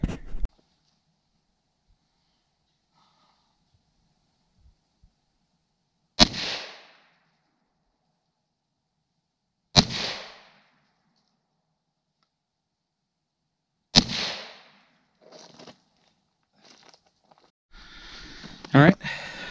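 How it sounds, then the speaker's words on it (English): Three sharp rifle reports in .17 HMR and .22 WMR calibers fire into clear ballistics gel about four seconds apart, each a loud crack with a short decaying tail, followed by faint handling clatter near the end. "I'll shoot a few more in here, a couple more, see if we can get any of them to expand in this clear ballistics gel"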